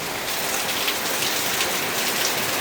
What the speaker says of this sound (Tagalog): Oh, kusog ang ulan.